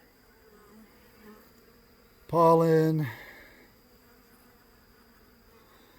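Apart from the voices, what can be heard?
bees buzzing around a hive frame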